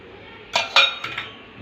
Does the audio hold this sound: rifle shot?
no